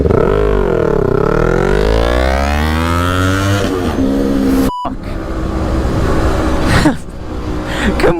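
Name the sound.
Kawasaki Ninja 400 and electric Ninja E1 motorcycles racing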